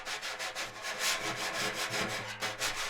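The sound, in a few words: drum brush played flat against the drum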